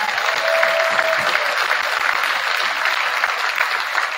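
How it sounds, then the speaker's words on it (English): Audience applause at a high school fall sports banquet, steady dense clapping from a crowd filling the room for the full few seconds, with a brief tone in the background. "let's go ahead and give them a round of applause."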